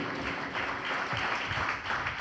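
A church congregation clapping loudly together, a dense and steady wash of applause filling the room throughout.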